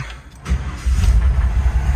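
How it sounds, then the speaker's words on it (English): A 1948 Ford delivery wagon engine cranks and fires, settling into a loud, steady low rumble close by after a brief quiet start. "let's go ahead and crank her up"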